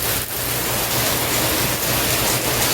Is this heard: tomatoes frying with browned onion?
no